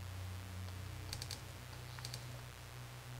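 Keys tapped on a keyboard inside a corporate-themed video game, a few quick, faint clicks in two short clusters over a low background hum.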